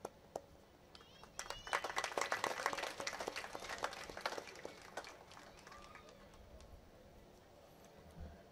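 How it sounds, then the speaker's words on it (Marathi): Crowd at a Hanuman Jayanti temple gathering clapping to welcome a guest, scattered claps building into moderate applause that fades out, heard at a distance. "एकदा आपण सर्वजण जोरदार टाळ्या वाजवून त्यांचं या ठिकाणी स्वागत करूया"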